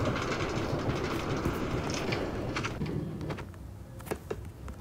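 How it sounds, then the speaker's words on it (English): Far Rockaway bound A subway train rolling along the tracks, a steady loud rumble with rhythmic clickety-clack and brief metallic squeals, easing slightly toward the end. "This is a Far Rockaway bound A train."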